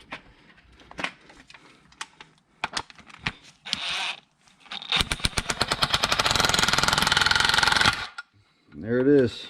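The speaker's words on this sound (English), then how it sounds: "I'm going to go ahead and try impact on it as well." An impact wrench hammers on a ball joint puller during lower control arm replacement on a 2009-2020 Nissan 370Z, with scattered clicks and knocks first, then a loud, close rapid rattling burst lasting about three seconds, followed by speech.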